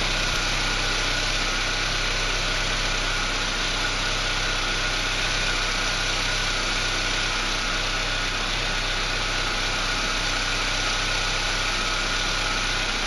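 Chevrolet Montana engine idling steadily while warming up after a pressure regulator replacement, a constant low mechanical hum with even vibration, heard close and alone.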